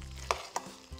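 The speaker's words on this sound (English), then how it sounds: "So I'm gonna give it a nice stir now" Hot, seasoned vegan sushi filling being stirred in a pan: two quick scrapes of the spoon over a faint, low sizzle, close and brief.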